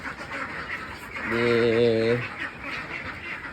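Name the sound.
13-day-old ducklings quacking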